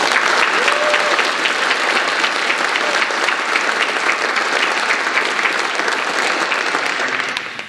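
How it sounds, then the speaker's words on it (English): Loud, sustained applause from a large audience at a senior recognition and scholarship ceremony, dense and even throughout before tapering off at the very end. "If we could give them one more round of applause."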